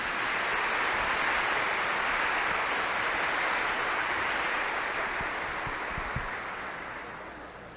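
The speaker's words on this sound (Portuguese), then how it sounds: "Uma salva de palmas para as duas," A church catechesis gathering breaks into broad, dense applause, a steady wash of many hands clapping that fills the room evenly and tapers off slightly toward the end.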